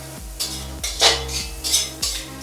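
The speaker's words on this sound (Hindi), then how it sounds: "तो ये फूल गोभी है चॉप किया हुआ और इसे भी अब डाल के भून लिया जा रहा है" Chopped cauliflower stir-fried in a pan, with repeated metallic scrapes and clinks of a spatula against the pan every half second or so over a faint sizzle, close and clear with no talking.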